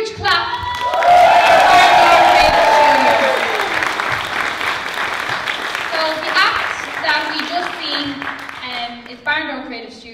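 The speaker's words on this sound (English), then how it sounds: "And we have one more big, huge clap." At a live dance show, a crowd bursts into loud applause with shrill cheers and whoops. The clapping and excited voices swell early, then gradually thin out, while scattered shouts carry on near the end.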